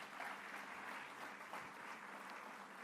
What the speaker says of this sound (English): So I will ask you for one applause only for everyone who is here,